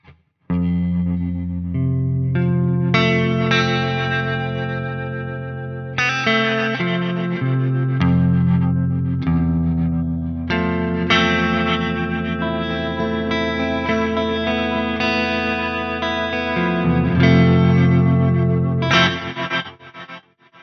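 A guitar played through a Strymon Bigsky MX reverb pedal in stereo rings out with chords and notes, washed in lush, shimmering reverb tails and chorus-like swirl, with no talking.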